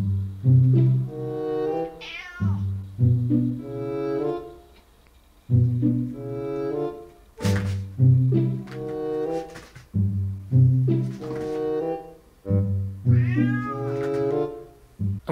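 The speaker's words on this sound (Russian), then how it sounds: "Давайте, кстати, позовем кошку." A cat meows loudly and close by, giving about eight drawn-out, tonal calls in a steady series with short pauses between them.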